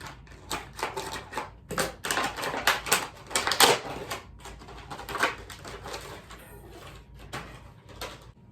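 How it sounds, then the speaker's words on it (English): Repeated sharp snips and crinkling as scissors cut through stiff plastic packaging, close up, in irregular bursts. "Cut this package open."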